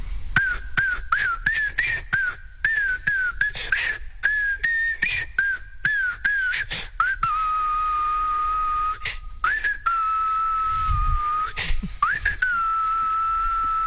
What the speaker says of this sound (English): This will be whistled by Sean. And this is a movie theme